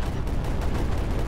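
Sniper shots in the strategy game Creeper World 4 blend into a continuous loud barrage of gunfire and blasts that fills the whole short moment.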